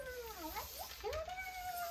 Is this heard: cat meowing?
yes